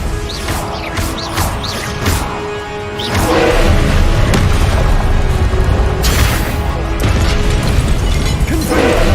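Blasting spell explosions in Hogwarts Legacy during a fight, loud repeated booms and crashes mixed with other spell effects and clattering impacts, growing denser and louder partway through.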